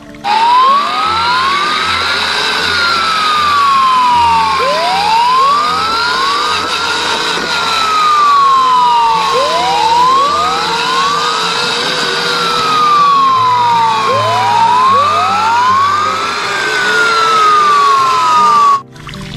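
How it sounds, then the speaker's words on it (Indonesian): A toy fire truck siren wails in repeated rising-and-falling sweeps, loud and close, cycling steadily for the whole stretch over a low electronic hum. "Mobil pemadam kebakaran."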